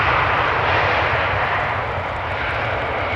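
An airliner at Amsterdam Schiphol Airport roaring past, its engines a loud, steady broadband rumble that eases slightly toward the end, with no voices.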